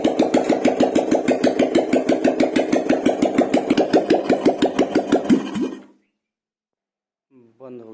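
A Royal Enfield Classic 350 single-cylinder engine with its head cover open and almost out of fuel thumps loudly in a steady, rapid rhythm. It then sputters and stalls into silence, followed by someone speaking.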